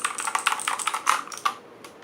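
Typing on an ABKO Hacker K2000 mechanical keyboard, a quick run of crisp, close clicky keystrokes in an irregular rhythm that thins out toward the end.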